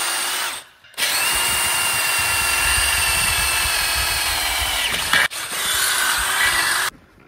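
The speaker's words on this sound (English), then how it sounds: "I'm gonna be drilling out both the rim lock holes with an 11/32 bit" A power drill with an 11/32 bit bores out rim lock holes in a wheel rim, whining loudly in one long run of about four seconds, then a shorter burst after a brief pause.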